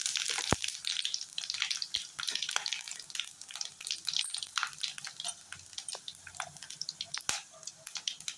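Ingredients dropped into hot oil for a paneer gravy, sputtering and crackling up close with scattered sharp pops and wet, watery hiss throughout.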